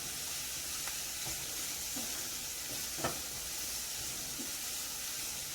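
Ground plantain being broken up and fried in a pan, a quiet continuous sizzle with a few sharp spatula taps and scrapes, one louder knock near the middle.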